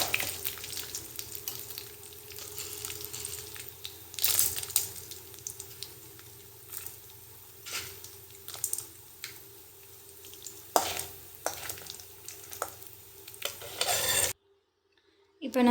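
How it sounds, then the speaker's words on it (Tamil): Dried chillies, chana dal and pepper fry in sesame oil for a Tamil thuvaiyal, a soft continuous sizzle broken by scraping stirs and occasional clinks of a utensil against the pan, then cutting off abruptly near the end. "2 ஸ்பூன் கிட்ட விட்டுட்டு காஞ்ச மிளகாய், கடலைப்பருப்பு, மிளகு எல்லாத்தையும் வறுத்துக்கலாம்."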